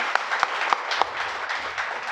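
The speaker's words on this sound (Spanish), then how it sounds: "Un aplauso a nuestro Dios, pues, qué bárbaro." Light applause rises among a congregation during a Spanish-language church sermon, with a few sharp separate claps standing out early before the sound thins into a soft scatter.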